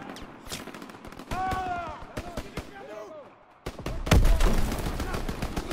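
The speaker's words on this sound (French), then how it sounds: "J'entends des coups de feu!" Rapid bursts of gunfire in Call of Duty: WWII crack among game sound effects and voices, building to a loud, dense volley near the end.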